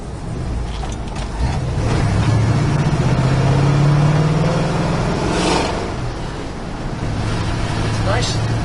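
A 1968 Ford Bronco drives along a road, its engine a loud steady drone that rises and falls with throttle and gear changes, accompanied by continuous road and wind noise from inside the cab.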